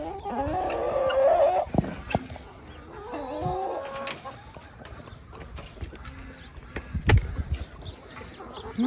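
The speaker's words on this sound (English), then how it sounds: "Here's the guineas." Guinea fowl calling outdoors in a farmyard on a morning feeding round, a run of loud harsh chattering cries early on, then scattered squawks and sporadic knocks and rustles nearby.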